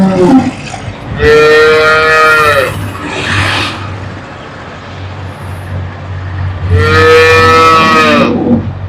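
Two long, loud cow moos close by, one early and one near the end, separated by a low steady hum.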